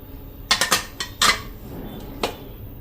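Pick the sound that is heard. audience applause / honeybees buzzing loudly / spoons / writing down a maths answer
spoons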